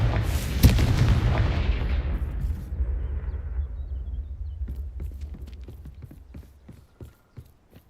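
A Confringo fire spell explodes in the Hogwarts Legacy video game, opening with a loud booming blast that rumbles and decays over several seconds, followed by scattered sharp clattering and thudding impacts.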